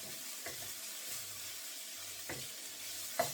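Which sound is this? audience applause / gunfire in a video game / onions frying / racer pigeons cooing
onions frying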